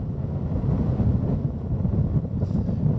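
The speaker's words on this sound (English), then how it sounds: "As you can hear, it's a bit windy" Strong wind on a High Atlas mountain pass buffets the microphone in low, rumbling gusts, loud and continuous with no other sounds standing out.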